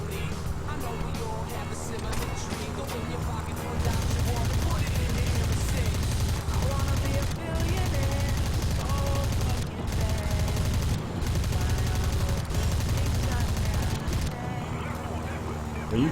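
Rapid gunfire in a shooting video game, sustained bursts of automatic shots with explosions layered over game background noise, with a player talking over it.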